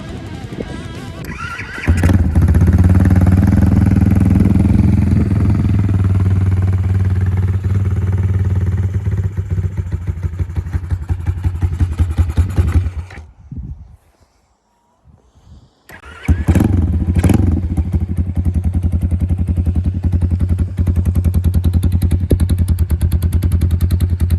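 A GPX Moto FSE140 motorcycle engine starts and runs with a loud, close, rumbling idle and revs. It cuts out briefly to near silence, then fires back up and keeps running steadily.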